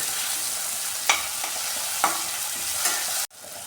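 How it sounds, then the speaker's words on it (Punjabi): Chopped red tomato roasting in an oil tadka for a chole sabzi makes a steady close sizzle, broken by three sharp stirring scrapes, before the sound cuts off abruptly near the end. "ਇਸ ਨੂੰ ਅਸੀਂ ਉਦੋਂ ਤੱਕ ਭੁੰਨਾਂਗੇ ਜਦੋਂ ਤੜਕਾ ਸਾਡਾ ਤੇਲ ਨਾ ਛੱਡ ਦੇਵੇ"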